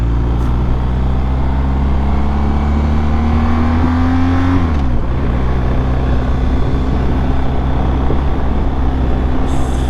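A BMW R1250 GS motorcycle on a road trip hums along at steady cruising speed, a constant loud engine drone with wind rush; the engine pitch rises gently, then drops midway as the rider eases off, and steady riding resumes.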